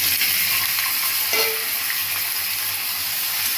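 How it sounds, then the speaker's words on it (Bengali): Potato pieces fry in a pan of oil tempered with dried red chillies and cumin seeds. A steady close sizzle runs throughout, with a brief stirring scrape partway through. "আলুগুলো খুব ভালো করে ভাজতে হবে।"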